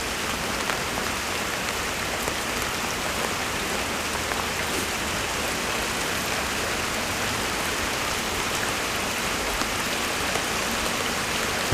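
Light rain falls on an outdoor fishing spot, a steady soft hiss of drops on water and surfaces throughout, fairly quiet and with no voices.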